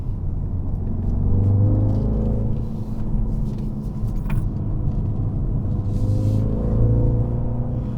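Cabin rumble of a 2019 BMW X2 M35i being driven, a steady low engine drone with road noise and a few light rattles, rising slightly at moments.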